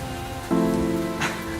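Rain sound effect in an audio drama, a steady hiss of falling drops that swells louder partway through, with a brighter splash near the end.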